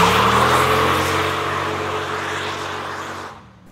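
A 1992 Dodge Viper's engine runs with a steady, loud, deep drone that slowly fades, then cuts off near the end, heard alone.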